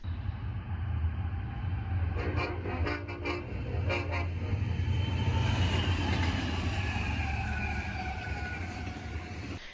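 A Union Pacific heritage locomotive in Southern Pacific colors rumbles steadily past with a heavy low drone, sounding a few short horn blasts early on before the roar continues alone.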